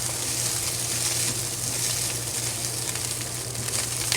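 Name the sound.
rice frying in oil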